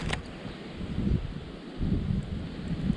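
Wind buffets the microphone in gusty rumbles, rising and falling over a few seconds outdoors.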